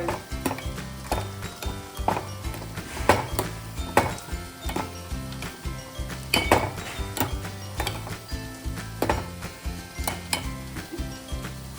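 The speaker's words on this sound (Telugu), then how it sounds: "ఇట్లాగా గరిటతో ఇట్లా మెనపాలి" A ladle mashing gongura leaves in a cooking pot of simmering gongura pulusu, with repeated knocks and scrapes against the pot over a low sizzle, steady and close throughout.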